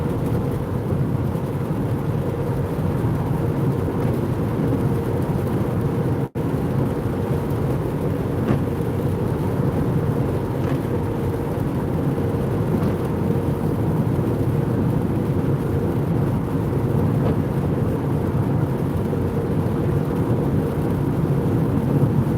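Heavy rain hammers down steadily and loudly for over twenty seconds as a dense, continuous roar, with low rumbling thunder blended into the wash, no talking.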